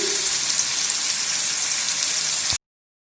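Pieces of malai boti sizzle in a grill pan over medium heat, a loud, even frying hiss that runs continuously, then cuts off abruptly.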